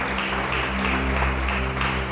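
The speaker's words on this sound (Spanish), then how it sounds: "Dale ese aplauso a Jesucristo." A church congregation applauds during a Spanish-language sermon, a steady dense wash of clapping that stays even and moderately loud for the whole stretch, with no voice over it.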